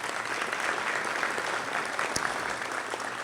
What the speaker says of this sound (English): So I think he deserves a great round of applause.